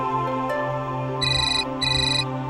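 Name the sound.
phone ringtone ringing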